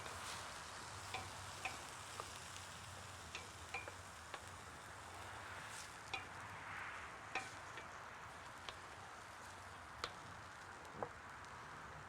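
Tomatoes cook in a paella pan, giving a soft, steady sizzle with occasional faint clicks and taps from utensils. The sound stays quiet throughout.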